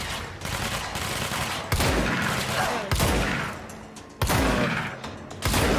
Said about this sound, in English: Who's shooting you?